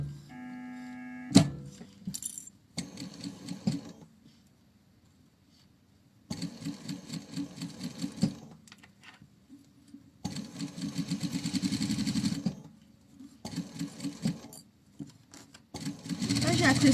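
A sewing machine stitches fabric for a bucket hat in several bursts of close mechanical whirring separated by pauses, with a voice talking in between.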